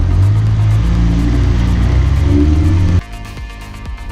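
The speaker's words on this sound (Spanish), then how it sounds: "El motor, al ir tan pegado al habitáculo, emana un sonido impresionante desde atrás" Alfa Romeo 4C Spider mid-mounted engine roaring loud and close from behind the cabin, a sustained rumbling rev that drops abruptly to a lower, choppier idle-like burble near the end.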